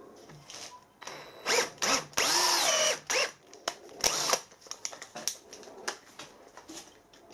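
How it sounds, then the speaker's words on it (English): A power drill bores a hole in soft aluminium, running in several short whirring bursts of rising and falling pitch, close up, with clicks and pauses between them. "I'll drill that one out 10mm and put a 10mm insert into that one."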